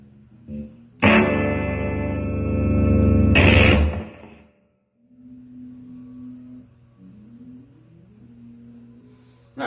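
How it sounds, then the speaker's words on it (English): An electric guitar played through a Jimi Fuzz pedal with the gain off and the voice knob turned up, giving a thick overdriven tone. A loud sustained chord rings out, then a second strum, followed by a quieter low note pattern. "if you have the gain off and just crank that voice all the way up, you get a nice overdriven sound"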